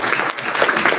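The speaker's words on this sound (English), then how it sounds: "huge round of applause" A small audience at a Toronto startup-accelerator graduation gives a brief, dense round of clapping, close and fairly loud, filling the whole moment without talk.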